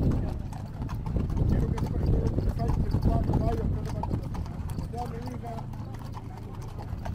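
Steady clip-clop of horse hooves on hard ground at a celebration in Tula, Tamaulipas, with people talking over the rhythmic hoofbeats.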